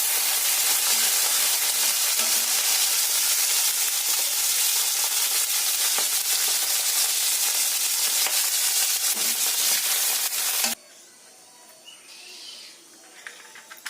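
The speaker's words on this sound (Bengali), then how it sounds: "সব সবজিগুলো ভেজে ভেজে তুলে রাখছি" Vegetables frying in hot oil, a loud, steady close-up sizzle that crackles without pause for about ten seconds, then cuts abruptly to a much quieter background.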